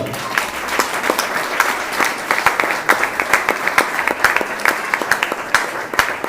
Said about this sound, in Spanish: Pide un fuerte aplauso al Señor